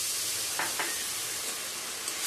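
Tomatoes in a pan sizzle with a steady, dense hiss after a little water is added, close and even throughout with a couple of faint scrapes.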